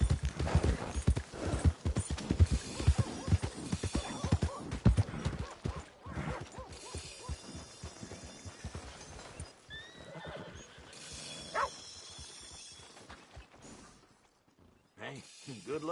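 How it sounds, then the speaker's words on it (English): A horse in the Red Dead Redemption 2 video game whinnies and its hooves clip-clop steadily nearby, with a voice talking over parts of it before the sounds fade near the end. "Hey, good-looking horse there."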